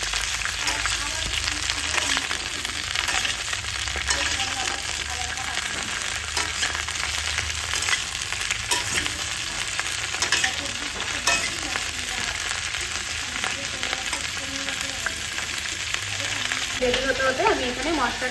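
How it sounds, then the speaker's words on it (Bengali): Cauliflower florets frying in hot oil in a pan make a steady, dense sizzle that crackles evenly and closely for the whole stretch, with no pauses. "আমি হালকা করে ভেজে নেবো, তাই আর অল্প অল্প করে আমি আর দিয়ে ভেজে তুলে দিলাম।"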